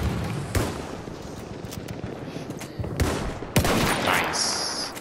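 Gunfire in Battlefield 1: loud close shots crack out in a few separate bursts over a dense rumble of distant battle noise.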